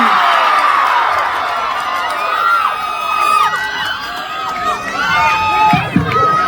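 A large crowd at a political rally in Surat Thani, Thailand, cheering and shouting continuously, with whoops and raised voices overlapping throughout, loud and close.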